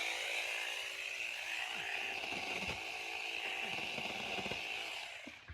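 A Saker mini chainsaw cuts through wood, its high, steady buzzing whine running loud and unbroken, with grinding bite texture as the chain works through the timber, before easing off at the end.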